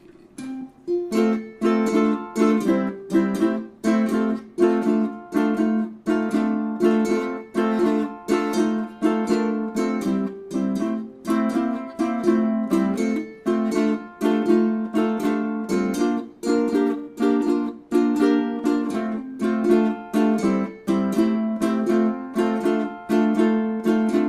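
A plucked ukulele plays a bouncy rhythmic melody with steady repeated strums and notes, alone and clear throughout.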